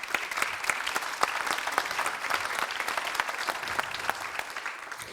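Audience at the closing ceremony of the Rendez-vous d'Herbalia claps for the event's sponsors, dense, even applause from a mid-sized crowd, sustained throughout with no voices.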